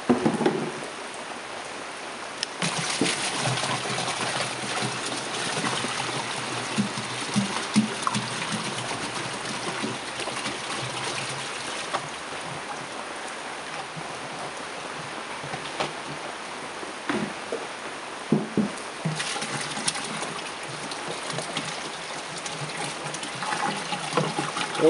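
Vegetable oil pours into a biodiesel processor in a steady, splashing trickle. The sound is continuous and moderately quiet, with small surges along the way and no talking.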